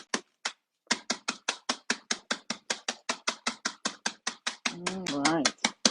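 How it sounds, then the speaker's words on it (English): Breakfast cereal is crushed by hand for French toast with a rapid, even series of about two dozen sharp crunching strikes, close and crisp. A voice speaks briefly over the last strikes. "So we'll crush it a little bit so that we have a little bit of the identity of the cereal."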